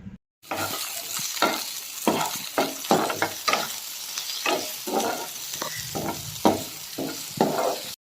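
Food sizzles steadily in a hot pan while a utensil stirs and scrapes in a series of short, rhythmic strokes, close and fairly loud.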